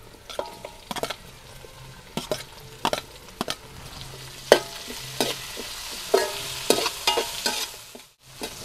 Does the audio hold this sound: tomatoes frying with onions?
yes